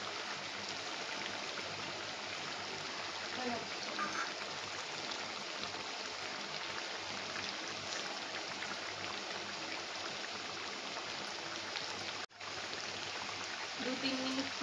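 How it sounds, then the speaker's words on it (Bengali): Chicken pudina curry boils in a pot on a gas stove, giving a soft, continuous bubbling hiss that stays faint and even throughout, with a brief break near the end. "2-3 মিনিট ফুটবে এটা।"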